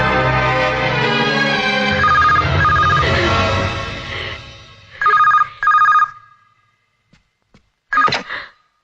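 A telephone rings in short repeated bursts, first over loud music and then alone in near silence as the music fades, with a final ring at the end.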